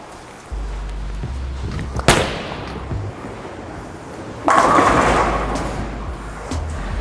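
A Roto Grip X-Cell bowling ball rumbles down the lane, then strikes the pins with a sharp crash; clattering follows and another loud burst of pin noise comes later in a bowling alley.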